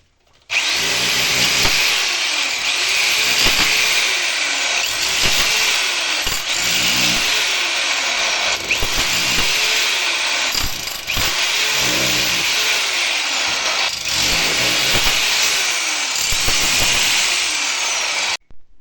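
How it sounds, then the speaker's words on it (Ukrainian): A rotary hammer pounds steadily and loudly, close by, breaking through a wall for a range hood vent opening, with brief pauses and restarts, its harsh rattling impacts filling the whole stretch without talk. "Я його тільки чуть-чуть позрушував перфоратором."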